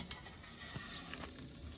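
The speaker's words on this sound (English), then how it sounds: "I can hear the sizzling in there." Faint, steady sizzling with a few soft pops and clicks, a low crackling hiss from food cooking in a Snow Peak Smokemeister charcoal smoker running at about 250 degrees.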